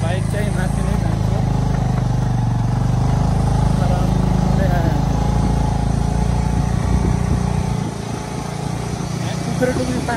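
A motorcycle engine labours uphill in Upper Mustang, Nepal, droning steadily and close, easing off briefly near the end, while voices talk over it.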